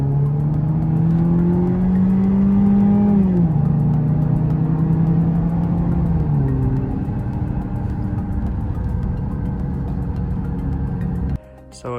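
A car engine, just deep-cleaned, hums and pulls steadily while being driven, its pitch rising and falling with a couple of gear shifts before settling to a lower drone, then a brief clatter at the end.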